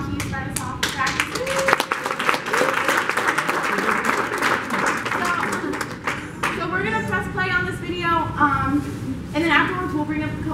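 A group in an office claps together in a quick burst of bright, overlapping hand claps that fades into talking voices.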